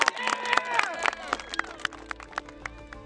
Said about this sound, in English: Give yourself a round of applause for being 10.